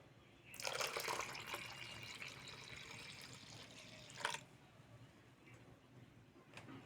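Salted rice-washing water poured into rice flour batter for thin Bengali chakli pitha, a steady liquid splash lasting a few seconds with a brief clink near the end, close and alone without talk.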